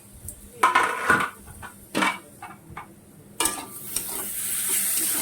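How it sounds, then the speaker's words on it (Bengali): A utensil scrapes and clinks against a pan of frying fish in several separate strokes while it sizzles softly underneath, growing into a steady fry by the end. "ভাজাটা একবার শেষবারের মতো নাড়া দিয়ে যাই"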